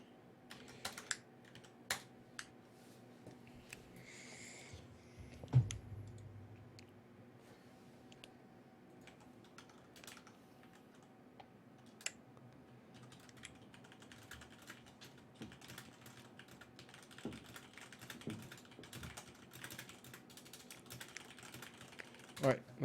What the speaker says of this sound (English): let me type in the chat channels